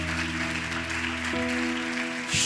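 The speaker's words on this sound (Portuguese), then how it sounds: "Dá uma salva de palmas para Jesus" A church congregation applauds, a wash of clapping carrying on under a sustained organ or keyboard chord, with a pitch shift partway through.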